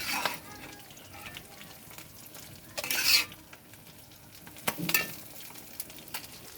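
Fish frying in oil until crisp gives a low, steady sizzle in the background, broken by two louder bursts of stirring or scraping in the pan.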